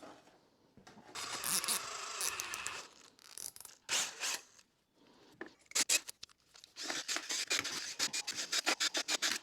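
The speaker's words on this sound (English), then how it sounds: "Let me mix with the drill" A power drill whirs in uneven bursts, churning thick mortar with gritty scraping between pauses, close by, during a chimney crown repair.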